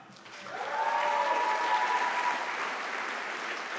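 Sustained applause from an audience at a medical school white coat ceremony, a dense steady wash of many hands clapping, loud and close, holding level to the end with a brief tonal voice-like trace in the middle.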